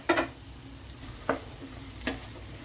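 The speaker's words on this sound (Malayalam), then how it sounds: "നമ്മുടെ ഈ സവോളയൊക്കെ ഒന്ന് വഴന്നു വരുന്നിടം വരെ നമ്മളൊന്ന് ഇളക്കി കൊടുക്കണം" Chopped onions and green chillies sautéing in a pan, with three sharp spoon scrapes against the pan spaced about a second apart over a faint, quiet sizzle.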